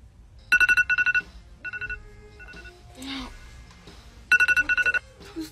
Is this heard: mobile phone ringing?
yes